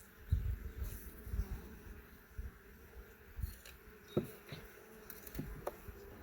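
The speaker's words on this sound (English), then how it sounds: "There's bees on every single frame, so that's a good sign." Honey bees hum around open hive frames during an April inspection, a steady low buzz at moderate distance with scattered louder thumps and handling knocks as frames are worked.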